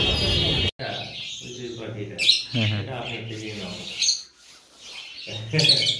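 Lovebirds in an aviary colony chirp and tweet in short bright bursts, with someone talking steadily over them for most of the stretch.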